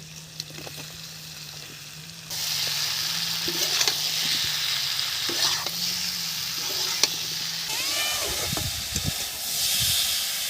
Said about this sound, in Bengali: এখন আমি ঝিঙেগুলো দিয়ে দিচ্ছি